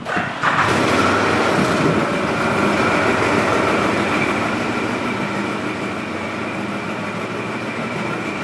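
A vehicle engine catches with a sudden burst and then runs on as a loud, continuous drone, slightly rough on the cylinders, with no voices over it.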